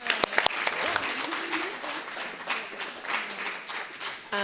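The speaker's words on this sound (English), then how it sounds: "I would just love for us to give her a very, very warm applause" Warm audience applause at a student and community organizing celebration, a fairly quiet wash of many hands clapping with a few sharper nearby claps early on, mixed with scattered cheers and murmuring voices.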